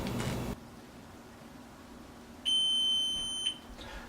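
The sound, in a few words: stove timer beeping when cookies are done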